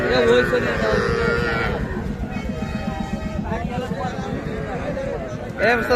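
Young bulls and heifer calves at the Aftabganj cattle market in Bangladesh moo loudly and repeatedly nearby, with people talking close by and a general market hubbub behind.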